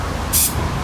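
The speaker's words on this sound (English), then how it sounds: "you can take a little bit of spray adhesive and just lightly" Short burst of spray adhesive misted lightly onto a screen printing palette, a soft hiss lasting under half a second with no talk.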